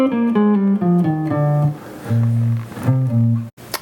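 Clean jazz guitar notes step through a Mixolydian scale, a descending run of single plucked tones that lands on a few sustained lower notes, then a brief stop and a final short pluck, with no talking.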